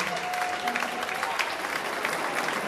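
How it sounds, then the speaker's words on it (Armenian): Applause at a wedding celebration honouring the groom's grandfather, a steady wash of hand clapping from a gathered crowd that fills the whole moment at an even level. "եկեք ծափարենք հատուկ մեր պեսայի պապին աչքա լուսանք տանք"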